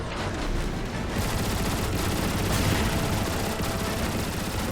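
Gunfire and rocket blasts in Transformers: War for Cybertron, a steady roar of sustained shooting and explosions filling the whole stretch, loud and unbroken.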